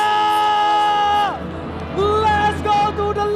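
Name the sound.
crowd applauding and cheering in arena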